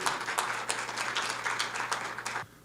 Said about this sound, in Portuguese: Vamos aplaudir o nosso convidado.